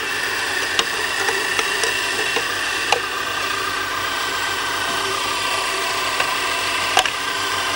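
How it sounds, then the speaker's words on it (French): Cooked chestnuts pushed through a hand-cranked meat grinder for a chestnut pudding, giving a steady faint grinding and crunching with a few sharp clicks and knocks from the mechanism, no talking. "Et là, avec la machine à jambon, avec la machine à hacher,"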